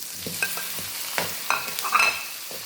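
Onion and tomato sauté in a pan while a utensil scrapes and stirs, clanking softly in uneven knocks over a light, steady sizzle, close and fairly quiet.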